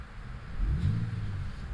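A 2025 BMW X3 M50i with a 48-volt mild hybrid system starts, its engine catching with a brief low rumble that rises and settles into a smooth, close idle.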